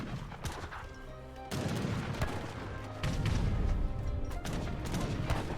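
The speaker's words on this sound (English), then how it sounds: "And now the heavy cannon is receiving massive fire." Heavy booming cannon shots and crashing blasts fire repeatedly in a chaotic battle din in the video game Age of Empires III, loud and dense, with no talking.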